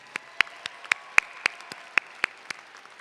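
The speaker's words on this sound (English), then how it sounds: "Give yourselves another round of applause" Scattered single claps from university commencement graduates, about a dozen sharp isolated hand claps ringing out at uneven intervals in a large hall, fairly quiet between hits.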